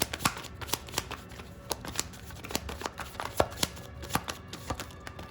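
Tarot cards being shuffled by hand, a rapid, steady run of crisp riffling slaps and flicks, close and clear with no talking.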